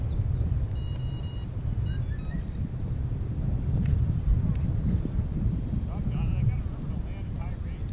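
Wind buffeting a microphone at an RC model airplane flying field, a steady low rumble throughout, with people talking over it.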